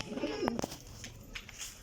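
Pigeons cooing in a loft, a few soft throaty coos close by, overlapping with faint chirps and a low murmur of background voices.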